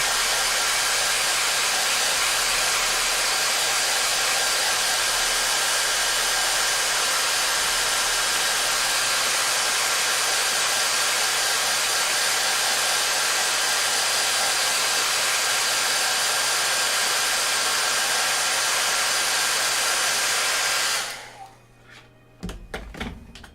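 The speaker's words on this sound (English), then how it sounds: "we'll do a quick blast with a hairdryer" A hair dryer blows with a loud, steady whoosh for about twenty seconds, drying paint on a miniature model, then cuts off, leaving a few faint clicks and handling noises.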